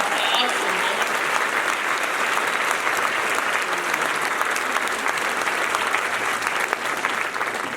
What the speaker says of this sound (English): How about one more round of applause for that?